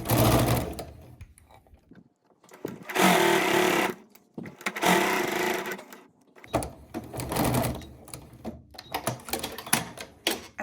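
A sewing machine stitches a blazer seam up to a notch and back-stitches, running in several bursts of fast, rattling whir separated by short pauses, close and clear with no speech.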